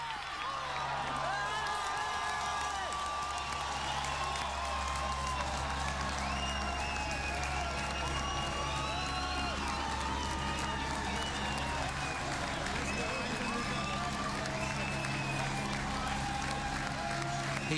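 A large crowd at the Roubaix velodrome keeps up steady applause and cheering with scattered whoops as riders of the 2012 Paris–Roubaix finish, a dense continuous roar from start to end.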